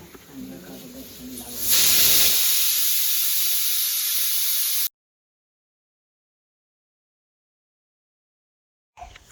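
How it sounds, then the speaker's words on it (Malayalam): A pressure cooker making kootukari, a Kerala Onam sadya curry, lets out one loud, sustained steam whistle and hiss for about three seconds, then it cuts off abruptly into silence. "കുക്കർ നാല് വിസിൽ വന്നതിന് ശേഷം നമുക്കത് മാറ്റി വെക്കാം"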